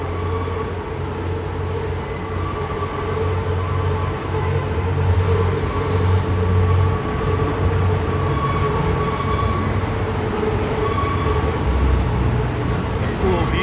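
A New York City number 7 subway train runs past on an elevated track, wheels squealing steadily over continuous loud rail rumble for the whole stretch, with a brief higher screech partway through.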